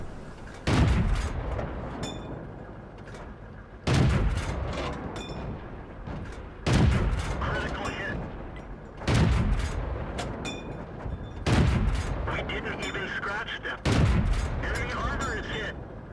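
Tank cannon shots in World of Tanks from a Panzer 38 nA on the Malinovka map: six loud booming blasts at roughly 2–3 second intervals, each with a long rumbling tail, set against game engine noise.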